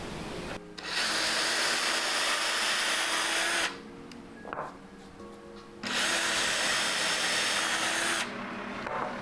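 A power drill whines loudly through wood using a drill block in two long bursts, with a short pause between them filled by faint clatter and handling.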